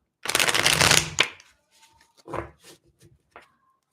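Tarot cards riffled and shuffled in a loud, dense burst lasting about a second, followed by softer slaps and flicks as individual cards are thrown down, close and with no voices.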